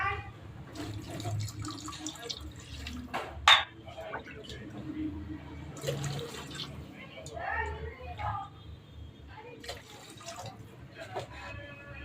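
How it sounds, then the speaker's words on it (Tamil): Water poured into a cooking pot for Tamil-style dal rice, a splashing burst near the start over steady kitchen noise, with someone talking throughout. "இப்போ இதில் தண்ணி ஆட் பண்ணிக்கலாம். 4 டம்ளர் தண்ணி தான் விடுவேன்."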